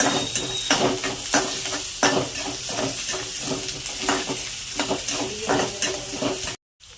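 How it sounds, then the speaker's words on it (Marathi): Onion, lemon, chilli and peanuts are stirred in a hot pan, with rhythmic scraping strokes over a steady sizzle and hiss that cut off abruptly just before the end. "कांदा लिंबू मिरची आणि बघा शेंगदाणे असं मस्तपैकी सगळं हलवून घ्यायचं."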